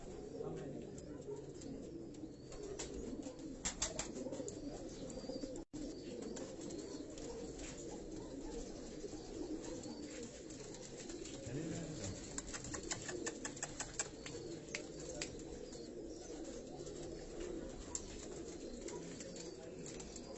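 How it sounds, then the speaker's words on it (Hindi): Rampuri and Teddy cross pigeons coo steadily on a Karachi rooftop loft, a soft continuous low murmur of many birds at moderate distance, with occasional clicks and faint rustling throughout. "ये जो रामपुरी और टैडियों के क्रॉस कबूतर ये हाजी साहब आपको दिखा रहे हैं"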